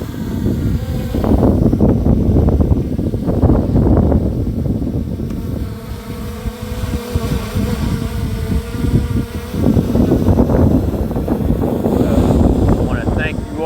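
Strong wind buffets a microphone outdoors in an urban area, a loud, gusty low rumble that runs through the whole stretch, easing slightly in the middle before surging again.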